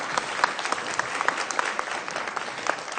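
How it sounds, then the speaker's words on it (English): An audience applauds a mural artist with a steady patter of hand claps from a moderate-sized crowd, sustained and fairly even throughout. "Give Kim a round of applause."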